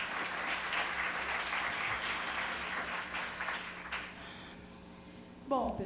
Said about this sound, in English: So let's give them a round of applause before we begin